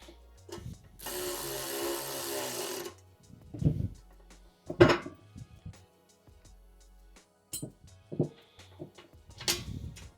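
A ratchet wrench tightens bolts on a car wheel dolly plate, giving a rapid clicking burst followed by several short separate ratcheting strokes with pauses between, close and fairly quiet.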